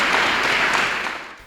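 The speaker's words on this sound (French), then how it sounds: "je voudrais à travers ça que vous puissiez vous applaudir d'abord vous-même" Audience applause at a vocational training ceremony, a dense burst of clapping from a crowd that holds for a second and a half and then starts to fade.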